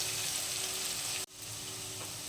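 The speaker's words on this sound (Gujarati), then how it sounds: "આપણે હળદર તેલમાં નાખી દઈએ તો બહુ સરસ કલર આવશે," Turmeric hits hot oil in a pan, giving a dense, constant frying hiss that cuts out for an instant midway and then resumes at the same level.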